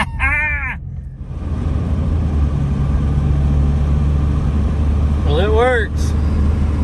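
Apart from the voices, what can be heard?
Chevrolet Cavalier engine running while driving in overdrive gear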